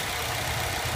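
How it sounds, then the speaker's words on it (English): A car engine that was run on very low oil and driven hard, idling with a steady low rumble and a faint rapid knock throughout, close and continuous. "their engine is knocking if they hear this sound"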